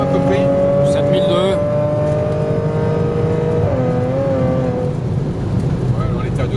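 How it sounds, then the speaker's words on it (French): A stage 3 ethanol-tuned Audi S5 of about 530 hp accelerates hard at full throttle in second gear on a track, its engine note climbing in a loud sustained roar, with people talking inside the car. "Je passe en deuxième, j'accélère. Là je suis à full gaz."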